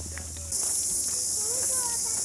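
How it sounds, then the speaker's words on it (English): A dense, high-pitched chorus of crickets chirps continuously, swelling in after a moment, with faint voices and birdsong underneath. "You can hear the crickets."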